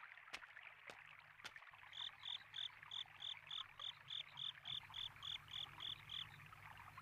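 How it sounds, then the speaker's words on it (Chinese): A cartoon frog croaks at night in a Chibi Maruko-chan stargazing episode, a quick regular train of bright pulsed chirps repeating about a dozen times, faint and steady after a few soft clicks. "哎呦，青蛙！"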